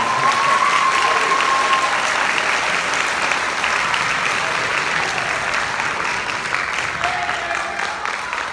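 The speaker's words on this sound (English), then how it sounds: "How about a round of applause for our solo ensemble?" A crowd at a middle school band end-of-year concert applauds steadily and loudly throughout, the clapping tapering off slightly toward the end.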